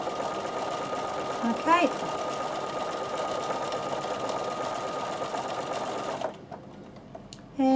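A Bernina sewing machine runs in one steady, loud mechanical hum for about six seconds before stopping. A brief voice is heard near the end.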